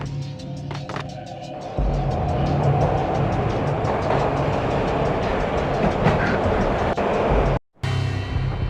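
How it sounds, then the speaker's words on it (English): A train in the Max Payne video game rumbles loudly with steady rattling and rhythmic clickety-clack from the rail cars, continuous and close, briefly cutting to silence near the end before the clatter resumes. "This was my second train ride of the night."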